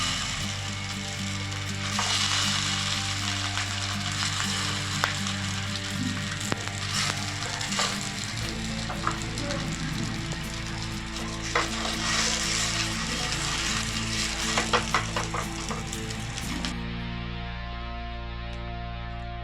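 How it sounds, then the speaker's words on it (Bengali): Suji and coconut pitha fry in ghee in a pan, giving a steady, close sizzle throughout, with occasional stirring and scraping clicks on top. "এমনি করে সবগুলো ভেজে নেব।"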